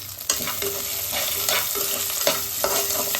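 Coconut pieces and curry leaves sauté in hot oil for a chicken curry, giving a steady close sizzle with intermittent scraping stirs and no voices.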